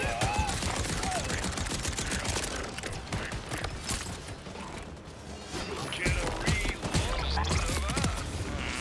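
Heavy-recoil gunfire in Borderlands 4, a dense, continuous run of loud mechanical shots and clattering action sounds, with brief dips before the firing picks up again.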